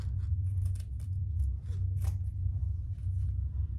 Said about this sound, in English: now trim this just so it's even